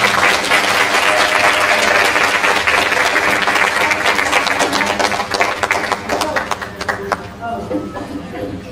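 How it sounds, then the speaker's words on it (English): At an end-of-year celebration for education scholars, a crowd claps loudly for an award recipient, a dense sustained roar of applause mixed with cheering and chatter that thins out toward the end. "Clap it up for Gianna."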